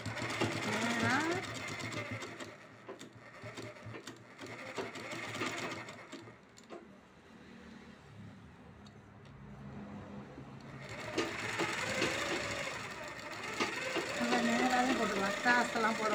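A sewing machine stitching a 40-inch blouse, nearby bursts of fast rhythmic needle chatter that stop and restart, with someone talking over and between the runs.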